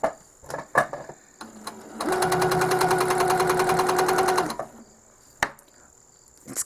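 A Handi Quilter longarm quilting machine stitches a Christmas quilt block along a ruler in one steady, fast rhythmic run of about two and a half seconds, close and loud, between softer clicks and handling noises.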